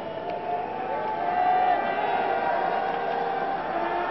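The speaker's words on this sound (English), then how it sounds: "A good crowd here in Prague." Steady crowd murmur in a Prague arena during a 1989 Czechoslovakia vs Soviet Union exhibition ice hockey game, a continuous dense roar of many voices with slight swells, heard alone without nearby speech.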